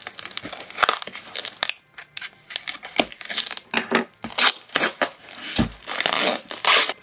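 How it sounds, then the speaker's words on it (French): Adhesive tape is ripped and peeled off a parcel in a series of sharp, crackly tearing bursts, some short and some drawn out, close up. "Il aime pas le bruit du scotch."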